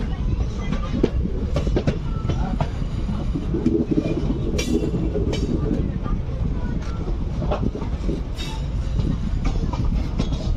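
The Chennai SF Express, an overnight express passenger train, rumbles along the rails near the main line with steady wheel clatter and wind buffeting the microphone, loud and continuous throughout.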